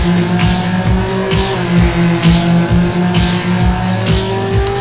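Race cars roar continuously in the Need For Speed: Underground Rivals racing game, with loud sustained engine drone, repeated gear-shift revs and intermittent tire squeals layered throughout.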